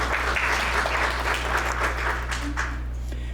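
Audience applause fills a town talk on a Sunday afternoon, steady dense clapping from a nearby crowd lasting the whole stretch over a low constant hum, with no voices.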